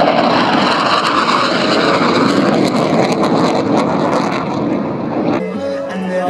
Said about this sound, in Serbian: Da vidimo poletanje aviona MiG 21 našeg glavnog posadača